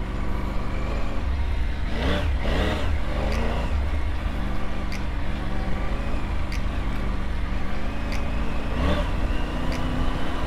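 A Triumph Tiger 900 GT Pro motorcycle ploughs through deep sand with traction control cutting in, its engine droning loud and steady under constant wind and rolling noise. A few brief rising surges and faint clicks are heard, with no talking.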